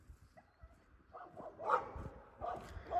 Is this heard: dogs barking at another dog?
yes